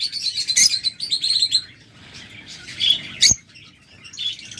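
A pair of lovebirds chirps in rapid, high bursts close by, with bright calls clustering in the first second and a sharp squawk near the end, over a faint low rustle.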